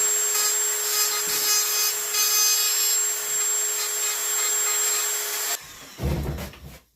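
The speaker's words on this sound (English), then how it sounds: "We're going to Dremel the eyes out." A Dremel rotary tool grinds out the eye sockets of a striper fish mount, giving a loud, steady high whine for over five seconds before it stops, followed by a brief low clunk of handling.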